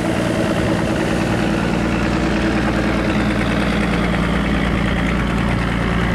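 A boat engine chugging on the water between Kiên Lương and Gạch Giá in Vietnam, loud and close, with a steady low vibrating drone that never lets up.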